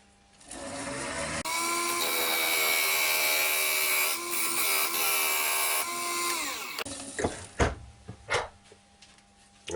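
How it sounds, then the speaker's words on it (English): Parting tool cutting a line into ash wood on a lathe, a continuous high whining scrape with a tonal ring that holds steady for several seconds, then stops, followed by a few scattered knocks and clatters. "I'm just going to make a mark now with my parting tool just on that line"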